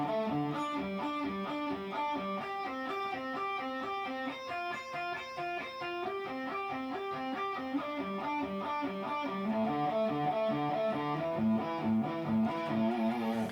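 Distorted electric guitar playing an inside-picking warm-up that starts on a downstroke on the fifth string, a fast, even stream of alternate-picked notes repeating in a steady pattern, moderately quiet and continuous.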